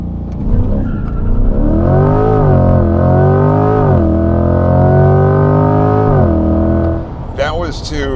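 A 2020 Corvette C8 in performance mode launches at full throttle, its engine roaring loud and close as revs climb through rising gear pulls before easing off, with brief talk at the end.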